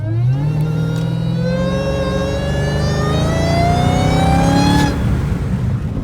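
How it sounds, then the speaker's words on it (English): A Dodge Hellcat fitted with a K&N cold air intake accelerates hard, its supercharger whine climbing steadily in pitch over a loud, rising engine roar for about five seconds before easing off. "the supercharger whine"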